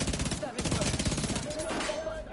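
Gunfire in The Division 2, loud rapid automatic bursts crackling nearly nonstop, with a brief lull before more shots trail off under game ambience.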